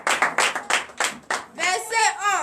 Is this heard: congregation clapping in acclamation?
yes